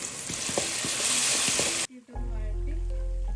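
Ingredients for manthi sauté in a hot pan with a loud, hissing sizzle and light stirring. After nearly two seconds the sizzle cuts off abruptly, and a quieter humming, tonal sound takes over.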